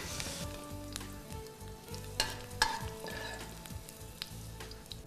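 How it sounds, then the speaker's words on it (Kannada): Ingredients roasting in a pan on the stove, with steady sizzling and stirring scrapes and a few sharp clinks of a spoon against the pan, close and without speech. "ತುಂಬ ಹುರಿಬಾರ್ದು, ಸುಮಾರು ಒಂದು ಮುಕ್ಕಾಲಷ್ಟು ಹುರಿಬೇಕು ಇದನ್ನಷ್ಟೇ."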